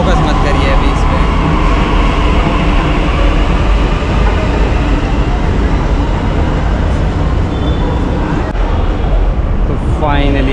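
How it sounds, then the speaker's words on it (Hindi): A loud, steady roar of a metro train pulling into a station, with rumbling wheels and a high whine rising near the end. "तो फाइनली आ चुकी है गाइस अपनी मेट्रो"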